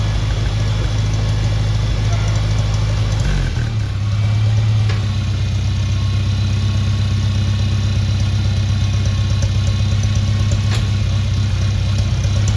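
A 1963 Cub Lowboy tractor's old gasoline engine runs loud and steady close by, its low rumble shifting pitch around a third of the way in as the PTO engages, then settling into a continuous drone.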